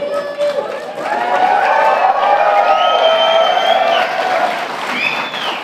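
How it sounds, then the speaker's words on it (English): An audience claps and cheers loudly and continuously, with whoops and shouting voices rising above the steady applause. "You should be clapping."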